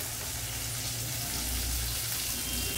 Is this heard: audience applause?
no